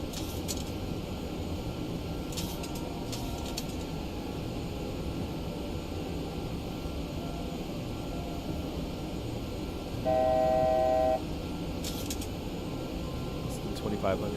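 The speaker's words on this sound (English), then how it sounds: "This is an approach for LaGuardia Airport from the south. That's why you always hear aircraft over here." An aircraft on approach to LaGuardia Airport from the south passes overhead with a steady low roar that holds throughout, and a brief tonal hum sounds partway through.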